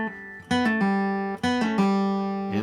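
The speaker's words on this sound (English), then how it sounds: "pulling it down and getting a click sound like this" An acoustic guitar plays a few plucked notes with sharp pull-off attacks that snap to the open fourth string, ringing clearly and close up with no talk.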